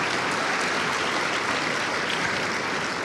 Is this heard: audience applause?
yes